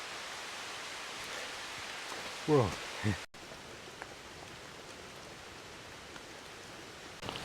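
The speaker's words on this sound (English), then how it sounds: "It's raining." Rain falls steadily in a rainforest as a broad, even hiss with a brief spoken exclamation partway through.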